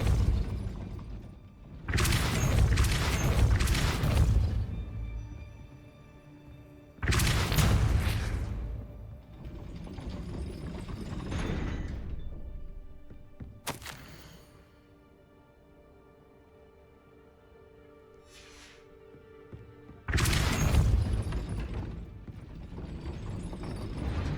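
In the Hogwarts Legacy video game, a Depulso spell raises a gate, producing repeated clanking mechanical bursts like grinding gears and a ratcheting chain, separated by quieter gaps, with no talking.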